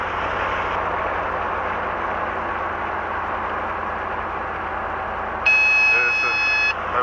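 The low rotor RPM warning horn of a Robinson R22 helicopter sounds as a loud steady buzzing tone for about a second over the constant engine and rotor drone in the cabin.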